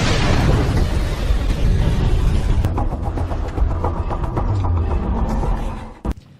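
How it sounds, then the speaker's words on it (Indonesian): A house explodes in an action film: a loud, sustained roaring blast rumbles and crackles for several seconds, then fades with a sharp pop and thud at the end. "seketika rumah itu meledak bersama dengan para penembak di dalamnya."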